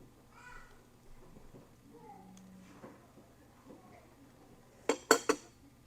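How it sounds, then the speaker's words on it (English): An eggshell is cracked open at the top for Lao baked eggs, a quick cluster of three sharp taps and cracks near the end after faint quiet handling and small clinks. "I will crack a little hole on the top here."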